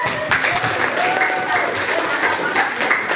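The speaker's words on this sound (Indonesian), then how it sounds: "Tepuk tangan dulu" Audience applause during a school literacy session, a steady wash of clapping with some voices mixed in, sustained and fairly loud throughout.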